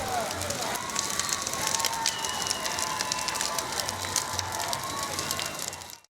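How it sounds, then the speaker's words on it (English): Burning debris crackles during riots over food prices in Martinique, a steady dense spitting and popping that runs throughout at moderate level before cutting off abruptly. "in the background, the crackle of burning debris"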